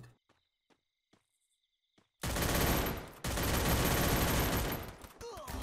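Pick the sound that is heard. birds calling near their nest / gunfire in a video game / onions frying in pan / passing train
gunfire in a video game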